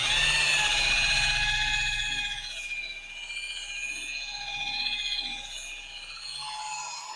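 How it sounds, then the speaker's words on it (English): A rotary polisher spins a pad clockwise while working rubbing compound into car paint, giving a steady, close mechanical whir with a whining hum that dips slightly and continues throughout. "the pad is spinning clockwise"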